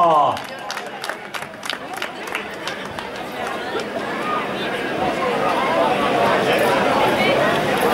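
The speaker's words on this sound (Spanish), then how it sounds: "Fuertísimo ese aplauso para Eduardo García" Applause and crowd noise swell at the finish line of a running race as a runner arrives, a dense, steady wash of clapping that grows louder and fuller, with a brief voice at the start.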